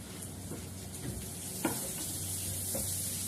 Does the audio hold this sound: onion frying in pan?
yes